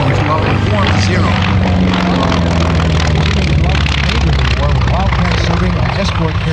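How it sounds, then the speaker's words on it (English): A Grumman F4F Wildcat with a 14-cylinder Pratt & Whitney air-cooled radial piston engine flies at an airshow, giving a loud, steady propeller drone that fills the whole stretch under continuous crowd and announcer noise. "That's Pratt & Whitney power you hear, the big round engine, 14 cylinders, air-cooled radial piston engine."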